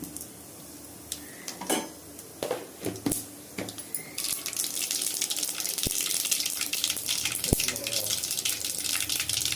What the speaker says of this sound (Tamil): இது சீரகம் போடுறேன் கொஞ்சம் கடுகு போடுறேன்